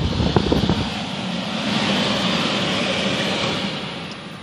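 A gas furnace squirrel-cage blower repurposed as a shop fan runs with a loud, steady broadband whoosh and hum, a few clicks at the start before the airflow settles into a constant roar.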